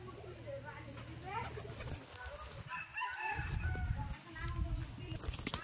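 Lotan pigeons at a pigeon sale in Beldanga, with soft, low cooing and bird calls mixed into the nearby crowd and a person talking over them.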